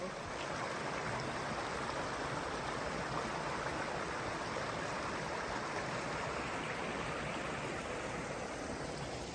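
Yatesville Creek flows steadily, a constant broadband rush of running water close by, unchanging and with no voices over it.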